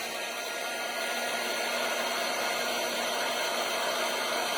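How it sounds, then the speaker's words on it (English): Heat gun blowing hot air to melt solder, a steady, even close roar of fan and airflow with no talk. "So we're just going to heat this up."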